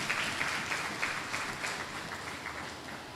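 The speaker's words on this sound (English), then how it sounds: "Give all the performers a round of applause" An audience at an award ceremony in Mayaro applauds the performers. The clapping is steady, dense and moderately distant, holding from start to finish.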